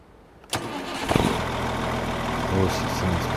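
Truck engine turns over and catches, then settles into a steady idle that runs loud and close for several seconds, with a brief rev bump late on; the truck is fitted with blue lights.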